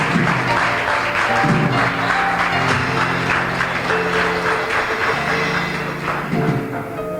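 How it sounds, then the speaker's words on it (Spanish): A Sunday church congregation claps loudly and continuously, with tonal sounds, probably music or voices, running underneath. "Denle un fuerte aplauso"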